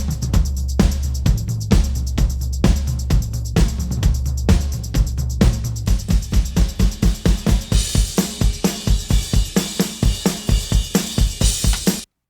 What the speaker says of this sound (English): you can hear how the automation works to help the drums kind of open up